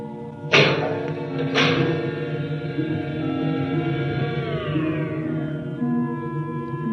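Two sharp mechanical thumps open an airlock in an old sci-fi radio drama, followed by a sustained humming, whirring tone that slowly descends and fades.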